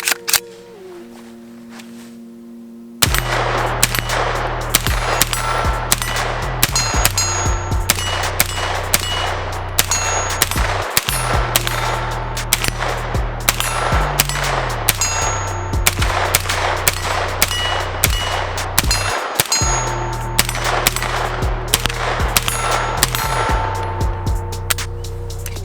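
Battlearms Xiphos 9P pistol fired at steel targets outdoors, a long run of sharp, loud gunshots in quick irregular strings with brief pauses, each report followed by a metallic ring, starting after a few quiet seconds.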